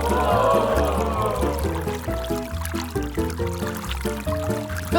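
Water pours into a Lego Technic water pump for an aquarium lamp, a trickling fill heard beneath stepped musical tones.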